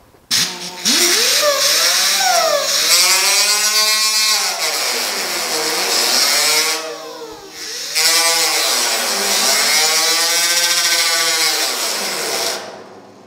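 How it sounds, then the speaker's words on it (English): Power grinder and sander working body filler skim-coated over small dents on a car body panel, a loud continuous whine rising and falling in pitch as the tool bears down and eases off, briefly pausing midway, with no talk. "So we're going to grind it real quick and see how it feels"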